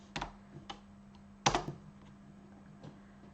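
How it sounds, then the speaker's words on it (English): A few bursts of keystrokes on a computer keyboard typing a web address, quiet clicks in two short clusters with a faint steady hum underneath. "So you can just go and type python.org"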